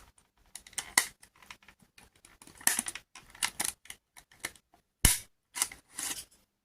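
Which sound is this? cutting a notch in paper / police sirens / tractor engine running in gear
cutting a notch in paper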